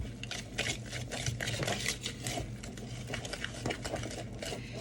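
Twinkie batter being stirred in a bowl, a steady soft scraping and patter that continues without pause, with no talk.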